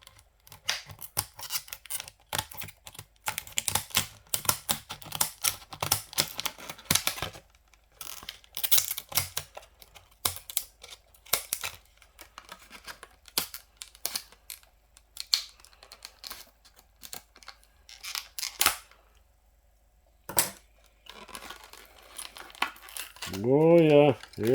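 Scissors snip and cut open the plastic blister packaging of a Hot Wheels Lamborghini toy car, giving a close run of sharp clicks, crinkles and tearing bursts with pauses, and people talking near the end.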